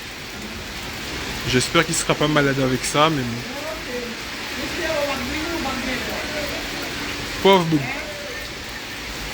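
Steady rain falls outdoors during a flood, a constant wash of drops. A person speaks intermittently over it and a few brief animal-like cries break through.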